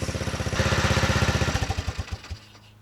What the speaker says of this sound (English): now it actually idles like it's supposed to be, so it's fixed